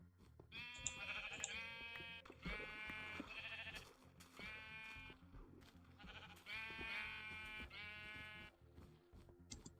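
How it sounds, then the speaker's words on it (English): Sheep in the Minecraft Indev game bleat repeatedly in short, nasal cries, several overlapping calls spread across the stretch over a low game background, fairly close and clear with no talking. "what are these sheep doing over there?"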